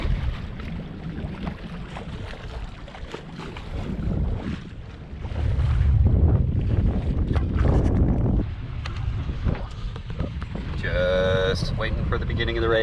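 Steady wind of about 8 to 10 knots rushing and buffeting against a sailboat before a race, with water noise and occasional voices in the background, louder gusts midway.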